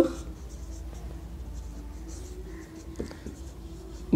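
Pen scratching across paper during a physics lesson on relative velocity, a steady faint scribble running throughout with a couple of sharper taps, heard close under light room noise.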